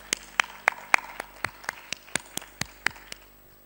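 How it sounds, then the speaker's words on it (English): Sparse, steady hand claps from a plenary session audience repeat at an even pace, fairly close, like only a few people clapping. "A big round of applause for Usha."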